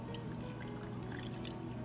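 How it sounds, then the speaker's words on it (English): Chilled honey-sweetened tea is poured over a cupful of ice, giving a faint, continuous splashing trickle up close with no voices. "Once it's chilled, pour it over a cupful of ice"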